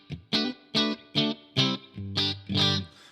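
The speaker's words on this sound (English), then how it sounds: "and we got a nice super reverb." Electric guitar played through a Super Reverb amp model on a HeadRush Core, clean and ringing: seven evenly spaced picked notes or chords, each swelling and decaying, played alone.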